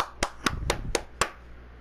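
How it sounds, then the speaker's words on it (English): Five sharp hand claps, fairly close and evenly spaced, ring out over faint background noise in an excited gaming setting. "Clap it up for him."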